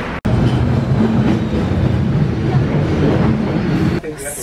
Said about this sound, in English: It's our first time going on the subway.